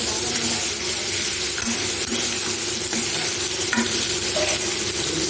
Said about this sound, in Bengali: এর মধ্যে আমি দিয়ে দেবো চেরা কাঁচা লঙ্কা আর টমেটো।